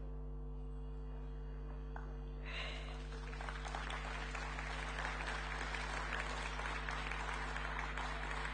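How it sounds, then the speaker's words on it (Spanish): Applause breaks out at an award ceremony and continues steadily, a crowd clapping at moderate volume over a constant low electrical hum. "Fuerte el aplauso para Telmo Trocero, que recibe este reconocimiento"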